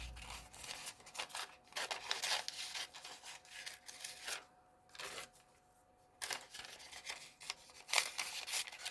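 Scissors snip through paper to make cut-outs and doily pieces, a run of close, crisp cuts and rustles with short pauses between bursts, no talking.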